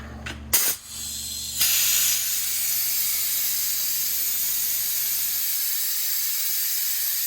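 A vacuum brake bleeder sucking brake fluid out of a car's brake system during a flush, starting with a few sharp clicks and bursts, then settling into a steady, loud, close hiss that continues alone.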